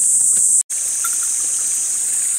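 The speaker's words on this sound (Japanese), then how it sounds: "水が流れています。" Water flowing over a mountain hiking trail, a steady hissing trickle with insect-like high buzzing on top, continuous apart from a brief dropout.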